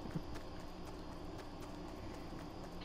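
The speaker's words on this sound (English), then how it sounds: "I just heard footsteps" Rapid rhythmic footsteps in Fortnite, a steady patter running continuously through a busy game mix, moderately loud with no talk over them.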